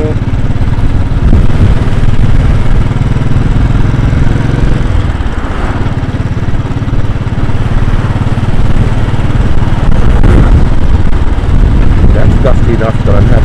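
Royal Enfield Bullet 500 motorcycle ridden through Brooklyn streets from Park Slope to Red Hook, a steady loud thumping single-cylinder engine drone with heavy wind rumble throughout, shifting slightly in pitch around the middle and near the end.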